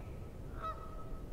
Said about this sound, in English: The old goose is standing on the tree that fell down and he's yelling at me